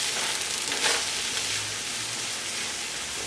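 Vegan beef crumbles fry in a pan as they are stirred, a loud dense sizzle with a brief surge of scraping near the start, then an even hiss, with nobody speaking.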